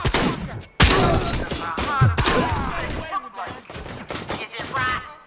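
Gunfire in the RoboCop: Rogue City game, with rapid bursts of shots and sharp impact cracks over several seconds, loud and close, while voices shout between them.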